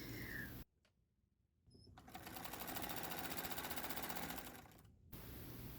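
A sewing machine stitches quilt binding in place, running in a steady fast rhythmic whir for about three seconds after a short pause, close and clear with no talking.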